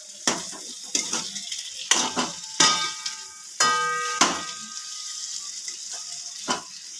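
Noodle khichdi is stirred in a pan in a series of distinct clanking scrapes of a utensil against metal, roughly one every second, over a soft sizzle, close by and without speech.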